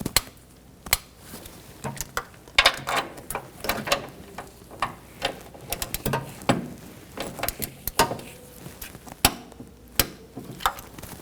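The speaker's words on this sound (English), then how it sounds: "I'm going to torque these bolts to 22 foot-pounds." A torque wrench works the accessory drive belt tensioner bolts on a 2014-2020 Nissan Rogue 2.5L four-cylinder, making rapid irregular ratchet clicks and metallic ticks, fairly close and loud, with short pauses between bursts.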